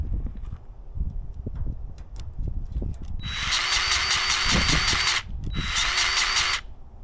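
Bauer 20V cordless grease gun pumping grease in two loud, steady motor bursts of about two seconds each, separated by a short pause, following a stretch of clicks and handling noise.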